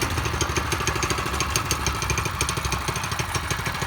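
Yerf Dog 3203 dune buggy with a stock small engine and CVT, no exhaust fitted, running at a steady idle; a rapid, even chugging putter with light mechanical clatter, close and moderately quiet.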